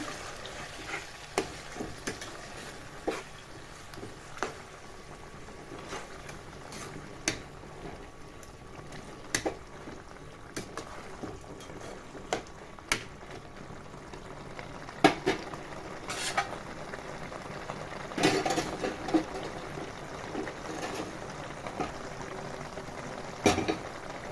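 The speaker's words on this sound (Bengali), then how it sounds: "আমি এটাকে জলটা সেদ্ধ দিয়ে দিচ্ছি ভালোভাবে নাড়াচাড়া করতে থাকবো" Taro leaves cook in a pot of boiling water, a soft bubbling bed broken by repeated light clinks and scrapes of a spoon stirring against the metal, fairly faint and without talk.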